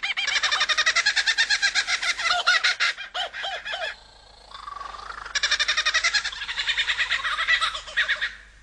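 A male songbird able to mimic the calls of at least 20 other species sings a loud, close, continuous run of varied repeated phrases, with a brief quieter gap midway before the song resumes.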